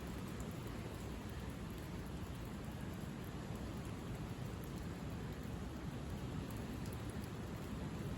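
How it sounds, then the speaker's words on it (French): A light spring rain shower falls on 24 March 2024 as a soft, steady patter and hiss of drops, uniform and fairly quiet throughout, with no voices. "Un petit peu de pluie."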